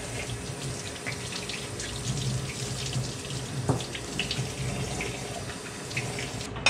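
Water runs steadily from a tap while hands are washed at a milking setup with no hot water. The rush is constant and close, with small splashes and no voices.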